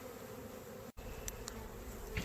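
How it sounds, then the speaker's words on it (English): Honeybees buzzing close around an opened beehive, a steady dense hum with a few sharper passes near the ear and a brief dropout. "They are buzzing in my ear."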